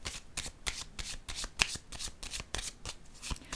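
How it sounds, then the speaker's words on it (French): A tarot card is laid down on a table amid a run of quick papery slaps and riffles, close and crisp, several sharp card hits spaced through the passage with no talk. "Je vais déposer une carte sur celle-ci"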